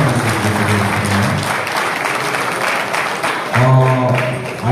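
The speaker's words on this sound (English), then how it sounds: "A round of applause for Natalie's presentation." An audience at a youth violence and drug abuse awareness event applauds after a presentation, loud, dense clapping throughout with a voice or musical tones rising over it near the end.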